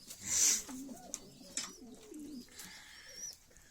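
Soft, low pigeon cooing rolls along steadily, with a brief bright chirp early on and faint background noise, fairly close and quiet.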